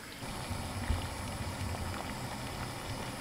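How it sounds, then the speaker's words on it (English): Water boils in a pot with skateboard bushings dropped in, a steady low bubbling and rumbling simmer that holds evenly throughout, close and moderately loud. "I'm gonna throw these in the boiling water there, leave them in for maybe about 10 minutes."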